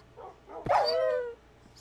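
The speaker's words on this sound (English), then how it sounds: "Dog's dying somewhere." A dog yelps and whimpers in the Minecraft video game, a single short descending whine lasting under a second, with quiet background noise before and after.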